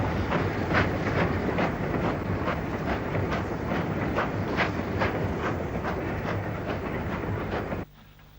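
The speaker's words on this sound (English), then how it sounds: "Crab 260 number 42782 is seen at work on a train of coal wagons." Crab 2-6-0 steam locomotive No. 42782 hauls a train of coal wagons with a Midland brake van at the rear, a steady loud rolling clatter with regular rhythmic beats close by, stopping abruptly near the end.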